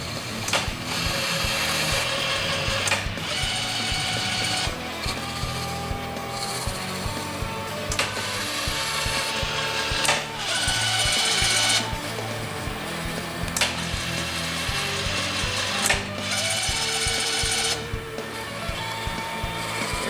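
A metal lathe doing left-hand servo threading at 24 TPI, cutting passes alternating with rapid retracts to the start position, giving a steady mechanical whir with repeated louder surges, heard alone without talk.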